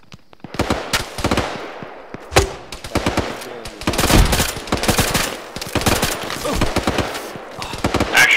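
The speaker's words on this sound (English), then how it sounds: "you need to be putting down some suppressive fire due west" Suppressive machine gun fire in the Vietnam-era ArmA 3 SOG game, loud dense bursts of rapid shots with short gaps, some distant cracks mixed in, and no talking.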